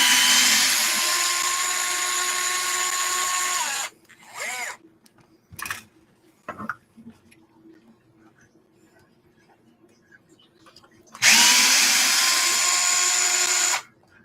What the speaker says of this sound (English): That's why I've got this DeWalt driver.